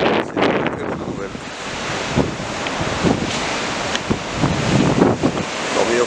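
At the Anglet surf spot, ocean waves of about 1.2 to 1.5 metres roll and break in a continuous roar, with wind buffeting the microphone throughout.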